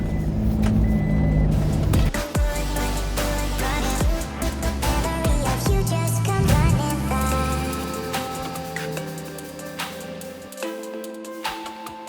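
A Toyota Hilux 4WD climbs a mountain track near Atherton in Tropical North Queensland, its engine loud and close with shifting revs, rattles and bumps over rough ground; no speech.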